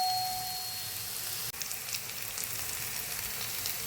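Bitter gourd (karela) frying in hot oil with curry leaves, a steady soft sizzle running throughout, with a brief dip near the middle before the crackle resumes.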